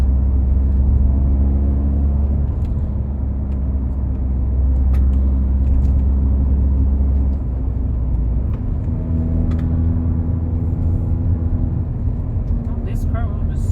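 A 1997 Honda Prelude being driven, its engine a steady, loud low drone that drops and shifts in tone about halfway through, as if changing gear, with constant road rumble underneath.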